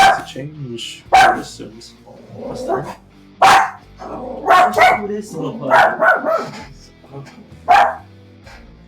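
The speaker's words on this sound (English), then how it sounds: "Please stop barking, little buddy." A small dog barks indoors in sharp, irregular bursts, close and loud, while someone talks between and over the barks.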